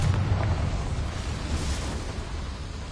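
A fire-spell explosion from the Hogwarts Legacy video game, heard as a broad, rumbling whoosh and roar with a heavy low-end burst at the start that slowly fades. It sounds fairly loud and there is no talking.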